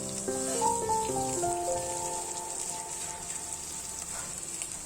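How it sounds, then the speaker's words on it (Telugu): Grated carrot, coriander and curry leaves sizzle in hot oil for semiya upma, a steady crackling hiss running throughout, with light music playing underneath. "కొంచెం కొత్తిమీర, కరివేపాకు అన్నీ వేగాలండి"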